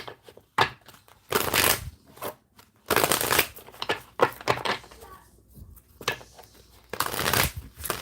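Tarot cards are shuffled by hand in bursts of crisp riffling and slapping, with short pauses between shuffles, close and fairly loud, and occasional brief voice sounds.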